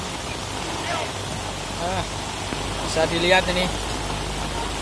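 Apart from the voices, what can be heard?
heavy rain falling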